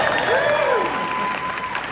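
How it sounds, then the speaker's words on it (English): An audience at a Disney world-building panel at SXSW 2025 breaks into steady applause while a voice speaks over the clapping, which fades slightly toward the end. "Hold for applause."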